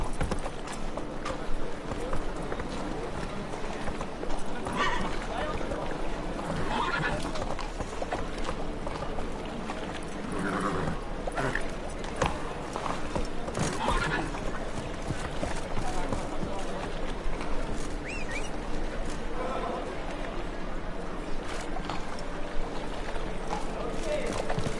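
Hooves clip-clop in a rapid galloping rhythm as a horse runs in The Witcher 3 video game, a steady mid-level pounding that continues throughout with some background rumble.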